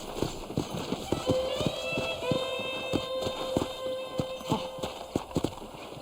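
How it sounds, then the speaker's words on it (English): Steady clip-clop of horse hooves walking at an even pace, close by, in the game Red Dead Redemption, with a faint tonal whine and a soft hum in the background. "I picked out a fine horse for you."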